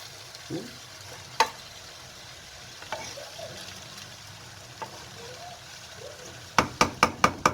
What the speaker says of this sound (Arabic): بعد ما انحمس اللحم والمكونات راح اضيف التمن